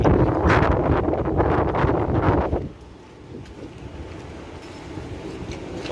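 Strong wind buffets the microphone outdoors in Mecca, a loud rushing roar with gusty surges for about two and a half seconds, then dropping to a quieter steady whoosh.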